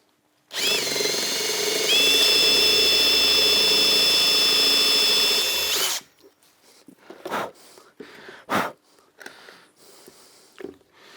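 A power drill spins up and bores a hole in plywood for about five seconds, a loud steady whine that rises once in pitch, then stops, leaving a few light knocks and handling sounds.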